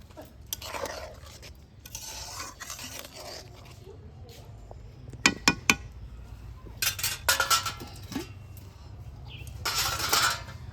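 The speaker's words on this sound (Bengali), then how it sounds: "এবার দিয়ে দিচ্ছি ভেজে রাখা পটলগুলো" Fried pointed gourds are added into a pan of mustard and poppy seed sauce for a vegetarian potol posto, bringing a few sharp utensil clinks against the pan amid soft sizzling and scraping, close by.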